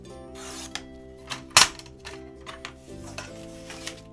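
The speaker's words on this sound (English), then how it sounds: "I'm just going to trim a little bit more off the bottom first." Paper being trimmed for a weekly planner, a handful of short, close scraping and rubbing cuts with one sharper snip in the middle, over a steady low background hum.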